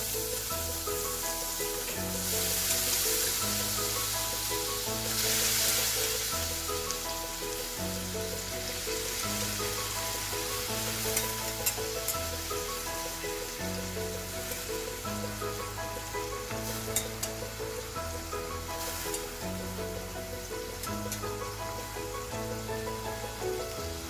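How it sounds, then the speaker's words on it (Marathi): Cooked ridge gourd sizzles and fries in a hot tempering of asafoetida and turmeric in a wok, a steady close crackling hiss running throughout with occasional stirring scrapes. "आता यात आपण शिजवलेली आपली भाजी घालून जळू नये म्हणून थोडी उचलून घेतली कढई"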